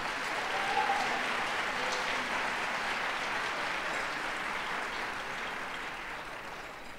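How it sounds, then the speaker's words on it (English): An audience at the Pine Forge Academy 2023 commencement ceremony applauds its graduating class, a dense, sustained crowd clapping that stays full and slowly fades toward the end. "let's give them a round of applause for their achievements"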